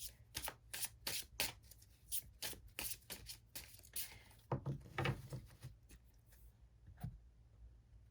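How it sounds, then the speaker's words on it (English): Tarot cards being shuffled by hand, a quick series of soft riffles and taps, faint and close, slowing toward the end. "let me shuffle the cards for that"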